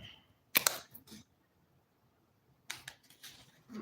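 A deck of cards is shuffled in two short, crisp bursts of riffling a couple of seconds apart, close by and fairly quiet, with near silence between them.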